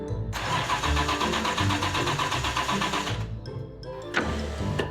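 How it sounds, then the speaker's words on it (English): A classic Aston Martin DB6 engine fires up and runs loud and close, a dense mechanical roar that cuts briefly near the end before returning. "Another opportunity to hear the purr of the DB6 engine as it glides effortlessly"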